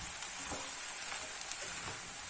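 Spiced potatoes with black pepper stirred in a pan, a steady close sizzle with soft scraping strokes and no talk.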